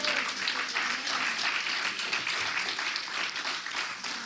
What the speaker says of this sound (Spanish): Los que se gozan le dan un aplauso al Señor.